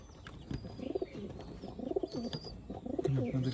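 Adult breeding-pair pigeons in a loft cooing in soft, repeated rolling phrases, fairly quiet and close, with faint chirps in the background.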